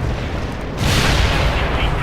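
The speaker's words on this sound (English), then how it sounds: "Artillery strike is inbound." An artillery strike in the World in Conflict video game lands as a loud, sustained rumbling roar of blasts that swells partway through and stays heavy to the end, with a voice speaking over it.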